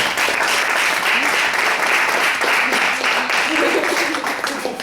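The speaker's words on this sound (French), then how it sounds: "Veuillez applaudir Monsieur Alex Carotté." An audience at a community presentation event gives loud, sustained applause for a speaker, a thick continuous roar of clapping from many hands throughout.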